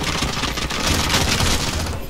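SMG fire in a video game, a loud unbroken rattle of rapid automatic shots across the whole short clip, with a voice talking over it.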